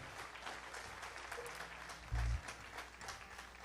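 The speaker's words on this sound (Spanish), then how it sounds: "denle un aplauso al Señor" A church congregation applauds the Lord during a service, a fairly faint, steady patter of clapping with a brief low thump partway through.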